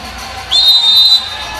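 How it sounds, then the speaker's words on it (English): A referee's whistle at an indoor professional soccer match gives one sharp, sustained blast of under a second, loud over the low hum of the arena crowd. "A whistle and foul"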